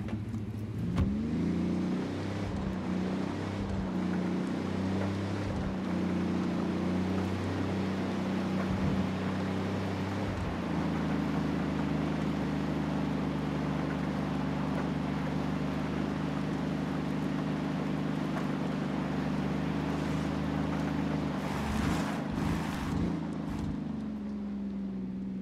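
Steady engine drone of a vehicle being driven in Ghost Recon Wildlands, a low continuous hum with a brief shift in pitch midway and a few light bumps, alone with no talk.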